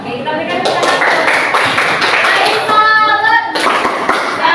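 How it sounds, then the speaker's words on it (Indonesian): Audience in a classroom or presentation setting applauding after a closing remark, a dense run of many hands clapping steadily throughout, with a few voices and chatter mixed in. "kita berikan tepuk tangan"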